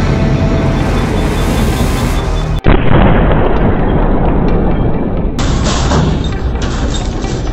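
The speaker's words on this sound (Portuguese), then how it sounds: "Uma explosão." An explosion that left a crater and took nine lives, heard as a loud, dense roar of broadband noise with a sharp cut partway through, then continuing rumble and debris-like noise.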